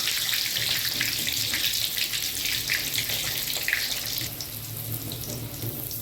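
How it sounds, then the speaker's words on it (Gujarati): A loud, continuous hissing sizzle of muthiya dumplings deep frying in hot oil for undhiyu, steady throughout and easing slightly toward the end. "બબે બબે મુઠિયા લઈને તળવાના છે"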